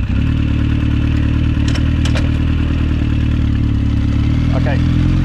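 A carburetted motorcycle with newly balanced carbs rumbles steadily on a cruise, a loud, close engine drone with a few brief clatters, as a person talks over it.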